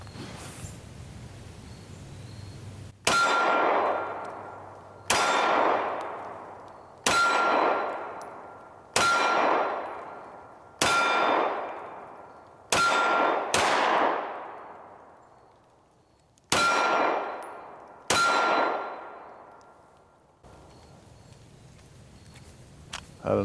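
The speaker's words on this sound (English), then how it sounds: "I'm going to start out here with the Jericho, standing at about 12 yards as mentioned, just shooting for the center of the target" An IWI Jericho 941 pistol fires at steel targets from about 12 yards, each shot a sharp crack followed by a ringing metallic clang, about nine spaced shots with a short pause before the last ones.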